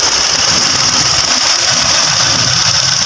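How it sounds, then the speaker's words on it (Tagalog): A 2023 Mitsubishi Mirage G4 three-cylinder engine idles with a loud, steady mechanical hum and a faint high whine, recorded close up with no talking. "Ganda na maandar ni Mirage,"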